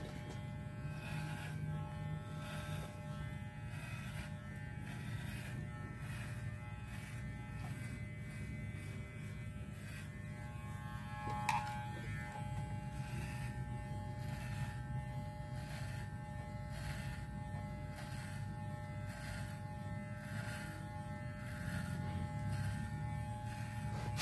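A Walmart electric hair clipper buzzes steadily while cutting a taper fade, a close, continuous droning hum with a faint rhythmic pulsing and a single small click partway through.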